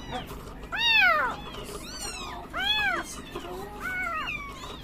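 A cat meows repeatedly, three or four loud, drawn-out cries close by, each rising and falling in pitch.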